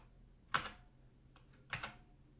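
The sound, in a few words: typing on a computer keyboard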